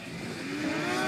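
A snowmobile engine droning at a steady, moderately loud pitch, slowly swelling as it runs on a leisurely ride.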